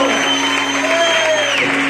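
A church congregation applauds and cheers together in a steady, dense wash of clapping and shouts, with a sustained tonal hum running underneath throughout.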